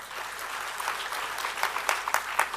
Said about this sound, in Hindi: यहां तक भी तालियां आपकी अच्छी हैं,